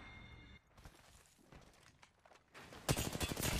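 Video game gunfire crackles in short bursts, scattered shots giving way to a loud, dense volley near the end.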